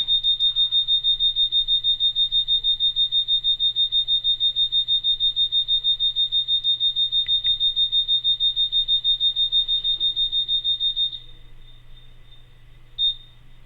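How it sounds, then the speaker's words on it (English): A steady, high electronic alarm tone beeps continuously in a fast even pulse during a live stream, loud and alone, then cuts out after about eleven seconds, leaving faint room hum and a brief last chirp. "But can you turn off the alarm, please?"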